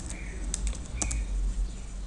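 Someone types a web address on a computer keyboard, with a few scattered taps close by over a low rumbling background.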